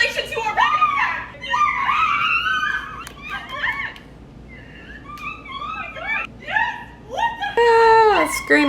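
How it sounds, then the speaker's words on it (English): Excited girls scream and squeal in repeated high-pitched bursts mixed with giggles and laughter, loud and close, amid a lively crowd at a beauty convention. "Screaming."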